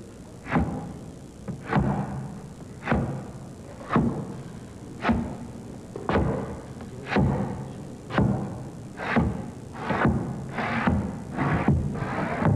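A voice imitates an old steam train, rhythmic breathy chuffs repeating about once a second and gradually quickening toward the end.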